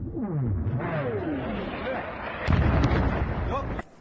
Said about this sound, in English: This was Dnipro before first light, an ammunition dump hit by a Russian airstrike.